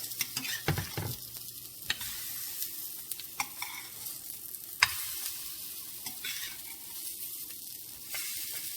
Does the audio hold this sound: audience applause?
no